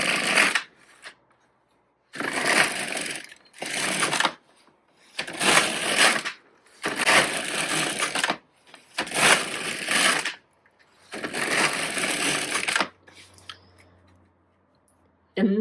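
An LK150 knitting machine carriage is pushed back and forth across the needle bed knitting rows, each pass a rough rasping swish lasting a second or two, seven passes separated by short silences, close up with no voices.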